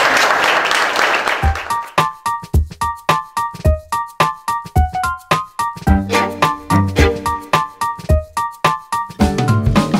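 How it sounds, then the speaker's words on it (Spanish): Applause from an audience at a closing event for workshops, heard as a burst of clapping in the first moments that quickly gives way to plucked, rhythmic music filling the rest. "Así que un aplauso para ustedes,"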